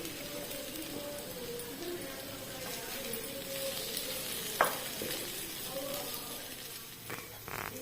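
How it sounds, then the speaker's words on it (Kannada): Slices of colocasia leaf pathrode shallow frying in oil, a close, steady crackling sizzle like light rain, broken by a couple of sharp utensil taps. "ಇಲ್ಲಿ ನೋಡಿ ನಮ್ಮ ಪತ್ರೊಡೆ ಫ್ರೈ ಆಗ್ತಾ ಉಂಟು"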